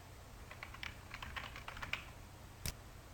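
Fingers typing on a computer keyboard, including presses of the tab key, a quick irregular run of light clicks followed by a single sharper keystroke, close and quiet with no talk.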